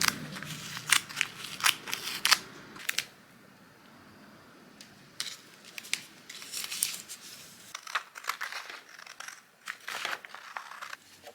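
Scissors snip through a hard sheet of cardboard to cut out a shoe insole board, giving close, crisp cuts in quick irregular bursts, then a quieter stretch before more snipping, with no voices.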